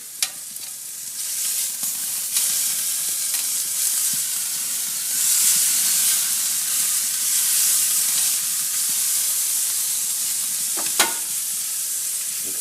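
Flat iron steaks sizzle on a hot Komodo Kamado grill in a steady, bright frying hiss, with soft clicks and scrapes as the meat is turned, and no talk over it.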